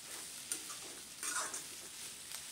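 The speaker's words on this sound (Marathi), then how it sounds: "पण अगदी हलक्या हाताने पोहे मिक्स करून घ्यायचे" Batata poha, flattened rice with potato, is gently stirred in a pan, with faint scraping and light sizzling and a few soft ticks from the utensil.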